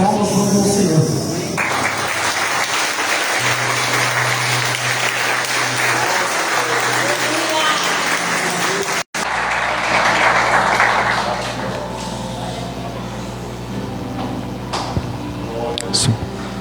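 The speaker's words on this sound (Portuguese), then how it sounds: "As palmas vão ao Senhor." A church congregation claps in praise during a service, a loud sustained burst of applause that breaks off abruptly, then returns more softly under a speaking voice and room sounds.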